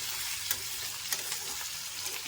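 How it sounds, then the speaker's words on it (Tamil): Chopped onions and coriander sautéing in a pan for upma, a dense continuous sizzle and fry with soft periodic spoon scrapes and stirs close by. "நல்லா வதக்கிடுங்க கொத்தமல்லி போட்டாச்சு வெங்காயம் கொஞ்சம் வதங்கி வரணும்"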